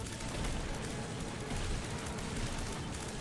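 Dense, continuous rapid gunfire from The Binding of Isaac, a dungeon-crawler video game, in a steady loud barrage of overlapping shots and blasts with no pauses across the whole stretch.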